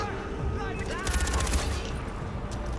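A thick burst of overlapping automatic gunfire from Far Cry 4's Valley of the Yetis, swelling in the middle and sitting under a busy game soundscape, with a voice mixed in.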